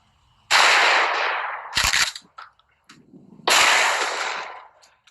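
Two loud, close blasts from a Mossberg 500/590 pump shotgun firing Rio buckshot at a target 5 yards away, each sharp crack fading into a short echo, with a metallic clack of the pump action between shots.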